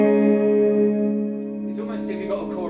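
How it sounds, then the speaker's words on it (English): Electric guitar played through a delay pedal whose modulated repeats give a chorus-like shimmer: a sustained chord rings and slowly decays, then new picked notes enter over the fading tail. "it's almost as if you've got a chorus pedal attached."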